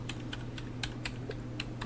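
Fingers tap steadily on the keyboard of a 13-inch MacBook Air M1, a run of light, quick key clicks with no one speaking over them, set against a constant low hum.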